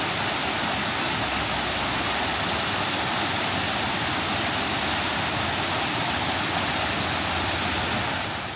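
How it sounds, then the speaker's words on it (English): Bucktail Falls pours in a steady, loud, broadband rush of falling water, unbroken and constant, heard from the roadside with no voices. "Here's the view of the waterfall from the road."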